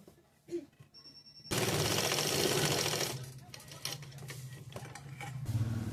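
A sewing machine stitches a textile blouse, running in one loud, steady burst of about a second and a half before dropping to quieter, intermittent whirring and handling noise.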